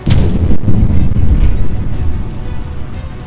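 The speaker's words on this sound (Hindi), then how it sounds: "लोगों के हाथ पांव तब फूल गए जब ट्रक में धमाके होने लगे" Explosions going off in a burning truck, a loud rolling boom that swells and rumbles, then slowly fades over a few seconds.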